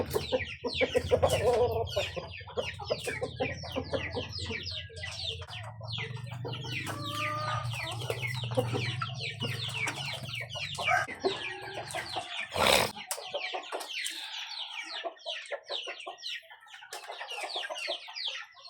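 Chickens cluck and chatter continuously at close range while being fed on a farm, a busy overlapping flock with a rooster among them and one loud thump partway through.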